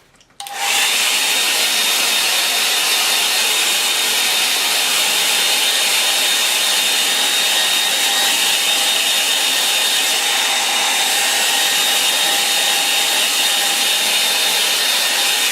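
Hair dryer switched on and running steadily to dry a painting of a Norfolk church, a loud constant whooshing drone with a faint whine that starts abruptly after a brief click and continues alone.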